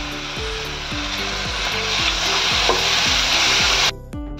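Tomato paste and ginger-garlic paste sizzle loudly in a pan for egg biryani, a constant close frying hiss with a repeating scrape of stirring, cutting off near the end.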